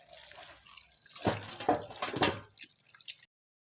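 Stuffed bitter gourds (karela) are rinsed under running water, a brief close splash and patter of liquid against the vegetables that swells and then stops abruptly.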